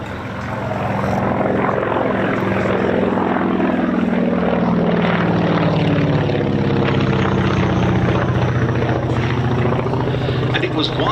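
Piston engines of a de Havilland Mosquito and the Lancaster Just Jane run steadily during taxi runs at the East Kirkby airshow, a loud continuous propeller drone rising at the start and holding near and powerful.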